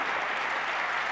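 Steady audience applause at a security conference, a dense even wash of clapping from a seated crowd, fairly quiet and continuous throughout.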